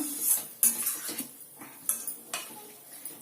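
A spoon scraping and clinking against a pan while garam masala is stirred into a moong dal and flower curry, a series of close, irregular metallic taps and scrapes.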